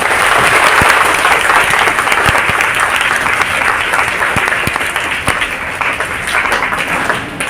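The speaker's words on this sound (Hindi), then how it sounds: "आपको एक बार अपने स्कूल के लिए जोर से तालियां बजानी है" Schoolchildren at a motivational seminar in a Chhatarpur school burst into dense, sustained applause for their school, a continuous wash of many hands clapping loudly with scattered sharper claps throughout.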